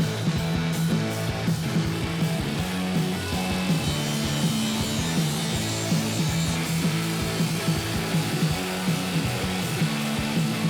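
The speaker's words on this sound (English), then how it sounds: "I get to crank up the saw and cut some steel." A power saw cuts steel on a lakeside dock build, giving a loud, steady, continuous grinding whine with a pulsing low hum throughout and no voices.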